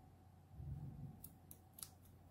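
Small scissors snip faintly a few times, quick crisp cuts spaced out over a low background hum, as dull blades struggle to cut cross-stitch canvas.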